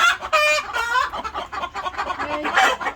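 Chickens in a coop cluck and squawk close by, a busy run of sharp, pitched fowl calls with a crow-like rising note among them, loud and alone.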